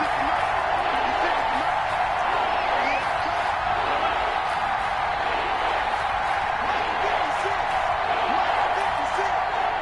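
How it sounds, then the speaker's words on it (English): A football stadium crowd roars steadily on third down late in a playoff game, a dense, continuous wash of cheering and noise from thousands of fans filling the whole stretch, with no pauses. "this crowd urging on their defense. They're up and making noise."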